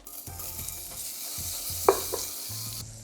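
Butter melting over medium heat in a hot pan for cheese sauce, a quiet, close sizzle with soft spattering crackles and a sharp utensil tap partway through.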